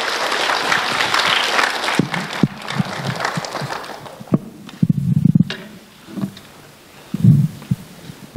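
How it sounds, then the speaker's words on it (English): Award-ceremony audience clapping for youth champions in Toronto, dense applause for about two seconds that thins into scattered claps, thumps and rustling as it dies away. "please give them another round of applause"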